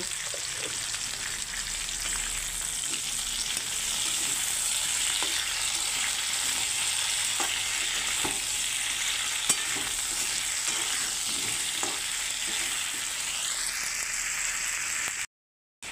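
Food fries in a pan with salt and turmeric in a soybean and potato dish, giving a steady close hiss and crackle with occasional soft stirring clicks before cutting off abruptly.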